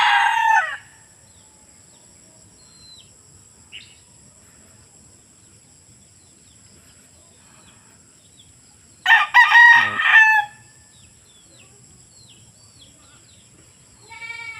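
A rooster crows loudly twice at a small backyard chicken coop, once at the start and again midway, with faint clucking and rural background noise between.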